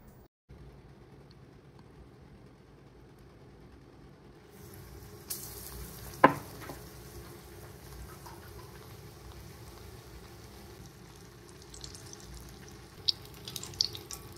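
Chocolate bajji fries in hot oil with a soft, steady sizzle and bubbling, quiet and close, punctuated by a few sharp clinks and stirring sounds.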